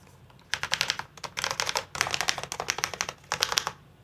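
Rapid clacky typing on a Tealios V2 mechanical keyboard, close and crisp, in several bursts of quick keystrokes separated by short pauses, with no talking.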